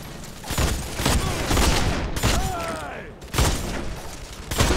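Gunfire in The Expendables 2 video game comes in heavy bursts with loud booms throughout, while a player talks over the shooting.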